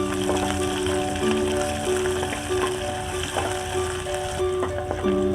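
Small onions sauté in hot oil in a pan for a Tamil sundakkai vathal kuzhambu, a steady close sizzle and crackle running throughout with occasional stirring clinks; a faint tonal background hum sits underneath.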